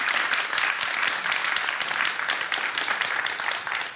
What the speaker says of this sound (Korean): 교수님께 큰 박수 부탁드리겠습니다